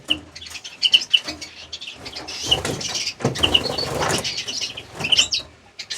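A cock greenfinch in an aviary gives short, bright chirps scattered over bursts of wing flapping and rustling, fairly close and loud with no talking.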